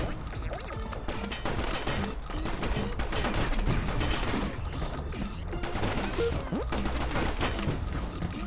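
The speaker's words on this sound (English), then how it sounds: "Machine gun? Machine gun!" Machine gun fire rattles in the video game Mole Men Must Die, a dense, loud, continuous barrage of rapid shots mixed with crashes and impacts throughout.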